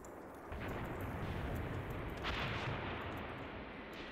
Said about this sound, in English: Flak 36s, you're getting to shoot at will again.